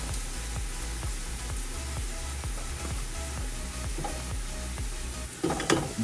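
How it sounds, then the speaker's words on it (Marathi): Marinated chicken with ginger garlic paste sizzles steadily in a hot pot while a spoon scrapes and stirs it in an even rhythm, close and continuous, with no talking. "Now we can put the chicken, marinated chicken."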